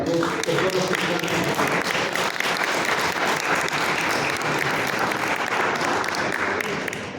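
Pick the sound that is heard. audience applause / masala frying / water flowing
audience applause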